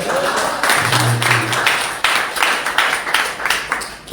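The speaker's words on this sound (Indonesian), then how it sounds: "beri tepuk tangan dulu." A seated congregation at a church session claps in scattered, uneven bursts, moderately loud in a reverberant room, with no voice over it.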